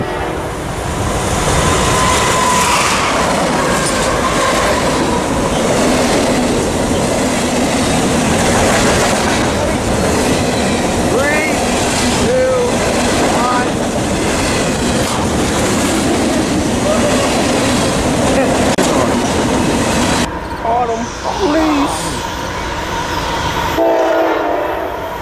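Freight train Q702 rolls past close by, a long continuous rumble with clattering wheels and railcars and blasts of its horn over the din.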